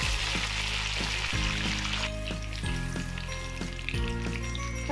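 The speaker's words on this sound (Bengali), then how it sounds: "এবার আমি বাদামগুলোকে আর মশলাগুলোকে একটু ভেজে নেব হালকা।" Cashew nuts, cardamom and cinnamon frying lightly in ghee for a shahi zarda sweet rice, a steady loud sizzle with soft periodic knocks of stirring.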